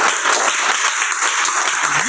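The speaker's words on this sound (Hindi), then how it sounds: "ताली बजाओ इसके लिए।" A class of children clapping during a maths lesson, a continuous patter of hands at a steady level, with a voice rising briefly near the end.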